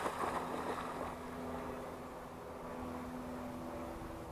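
An ICON A5 model seaplane coming in to land, heard as a faint, steady motor drone mixed with wind and water rumble, holding at an even level throughout.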